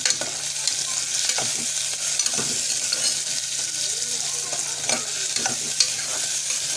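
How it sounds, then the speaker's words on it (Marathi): Garlic and onion sauté in hot oil with mustard seeds, giving a continuous close sizzle and a few soft stirring scrapes, with no voices. "मस्त तेलावरती परतून घ्यायचं आहे"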